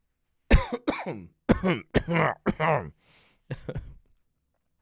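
Several sharp, close coughs come in quick bursts, separated by brief pauses, with a faint breathy hiss near the end.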